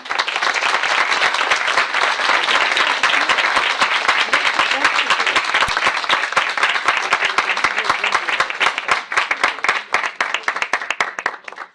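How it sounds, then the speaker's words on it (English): Loud, sustained applause from a student audience at Princeton, dense clapping from many hands filling the whole stretch and breaking into more distinct claps toward the end. "So first a round of applause."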